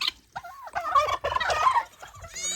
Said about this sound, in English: look how pretty these turkeys are